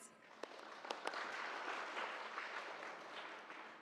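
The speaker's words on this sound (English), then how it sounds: "Now, I want you to clap your hands." An audience claps their hands at a speaker's request: a few distinct claps at first, then a steady wash of faint, distant applause filling the rest of the moment.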